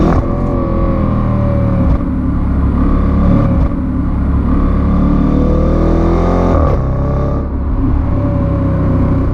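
An Audi RS6 driven hard through corners, its engine loud and close, rising and falling in pitch with repeated shifts and throttle lifts, alone without talk.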